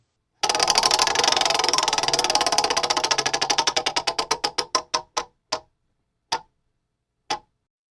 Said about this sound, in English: let's spin the wheel then